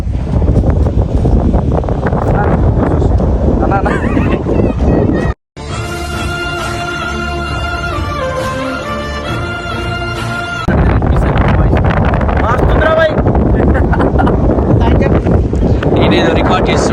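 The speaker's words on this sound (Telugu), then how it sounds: "చల్లగా గాలి." Cool wind buffeting the microphone on the Keesara Gutta hilltop, a steady loud rumbling roar broken by a brief dropout, with people talking over it throughout.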